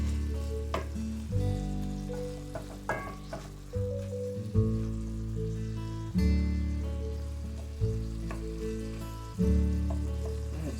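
Ground turkey sizzles steadily in a pan while a one-pan pasta is cooked, with soft stirring bumps recurring every second or two over a constant close frying hiss. No one speaks.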